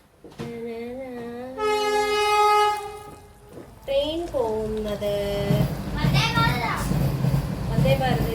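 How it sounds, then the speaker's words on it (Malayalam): A train passes and blows a long, loud horn blast, while children's voices chatter and call out nearby. "ഏത് ട്രെയിൻ ഏത് ട്രെയിൻ പോയാലും ദേവ് പറയും വന്ദേ ഭാരത് ആണോ"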